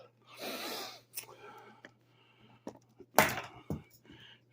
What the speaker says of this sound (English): Trying to catch my breath.